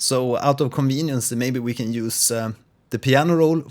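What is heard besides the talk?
No everyday noise stands out behind the speech.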